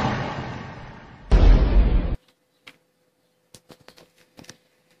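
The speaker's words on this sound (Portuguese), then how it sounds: "Meu irmão Sam vai dar dois tiros de uma bazuca no dinossauro." Two bazooka blasts in a Portuguese-dubbed action movie, fired at a dinosaur: a loud sustained roar of fire, then a heavier booming burst that cuts off abruptly, followed by scattered faint pops and debris.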